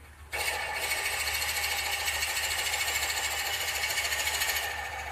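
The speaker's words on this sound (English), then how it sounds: "we're punching a hole into end grain on cherry" A Forstner bit bores into cherry end grain after a quiet start, then a continuous loud, buzzing drill whine holds steady for several seconds before easing slightly at the end.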